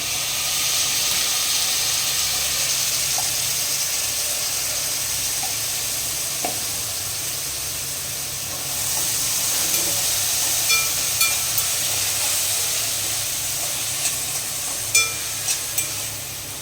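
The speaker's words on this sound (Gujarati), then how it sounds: "આપણી ડુંગળી બે મિનિટ સતડાઈ જાય ત્યાં સુધી આપણે રાહ જોવાની છે" Green onions sautéing in oil over a low flame for a Mehsana-style kadhi tempering, a steady close sizzle and hiss with occasional small pops and stirring sounds, no talking.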